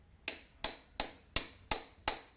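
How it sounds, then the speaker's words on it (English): Six sharp metallic taps of a hammer striking a center punch to mark a hole before drilling while fitting IKEA HOPPVALS blinds, evenly spaced and close, ringing briefly then fading, with no talk. "So I'll first punch a hole with this center punch."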